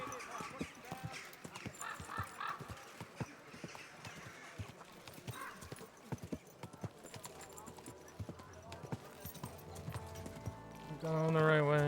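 Horse hooves clip-clop at a slow, steady walk in the medieval video game Kingdom Come: Deliverance II, close and rhythmic under frequent talking, with a brief musical tone near the end.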